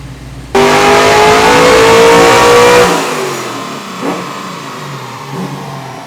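A tuned car engine on a dyno revs hard and loud for a couple of seconds with a rising harmonic whine, then drops back to a rougher, quieter idle with a few small blips of throttle.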